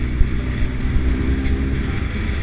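A Honda CB1000R motorcycle engine pulls steadily under acceleration, a continuous low rumble with a droning mid-range tone, close and fairly loud, broken only by faint clicks and wind-like noise.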